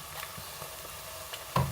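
Onion, garlic and minced chili pepper fry in a pan with a soft, steady sizzle, punctuated by a few light stirring clicks and a louder crackle near the end.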